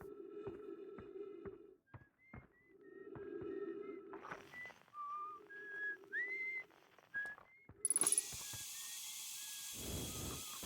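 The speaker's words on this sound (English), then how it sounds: "Why are you whistling?" A character in the space exploration game Outer Wilds whistles a cheerful, wandering tune in short melodic phrases, set against a low droning hum, with footsteps and a rising burst of wind-like noise near the end.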